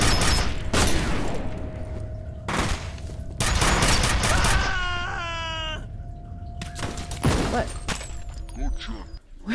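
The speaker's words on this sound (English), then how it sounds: "We're taking fire!" Gunfire in the video game F.E.A.R., arriving as loud rapid bursts of automatic fire separated by short pauses, mixed with mechanical clatter and game effects, with voices shouting between the volleys.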